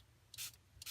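Two quick, close hissing sprays of mist from a spray bottle onto a stencil laid on paper, each a brief burst, the second cut off at the end, over a quiet background.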